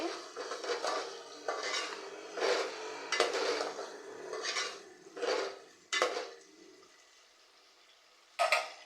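A spoon stirs a tomato and rock salt mixture in a pan for a Nellore-style fish curry, with repeated scraping strokes in uneven bursts, close and fairly loud with brief pauses between.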